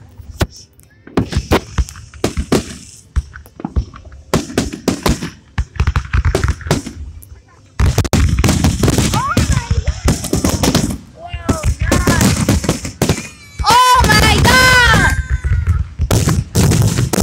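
Fireworks burst in a rapid, loud barrage of cracks and booms, some whistling and screeching rockets rising among them, with excited voices shouting over the blasts.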